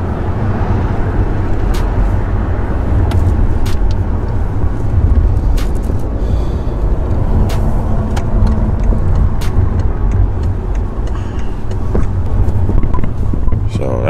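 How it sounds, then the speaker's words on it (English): Los Angeles city road traffic rumbles steadily nearby, a loud continuous low drone of passing cars with brief swells, and no one talks over it. "Welcome to this traffic in LA."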